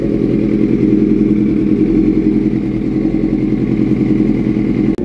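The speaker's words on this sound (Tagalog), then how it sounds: "So, nagagalit na siya kapag nire-rev mo. Yan. Suzuki 600cc sports bike." A Suzuki GSXR 600cc sports bike with an ignition fault runs loud and close, a steady, rough, growling engine note holding for about five seconds before a sudden brief dropout at the end.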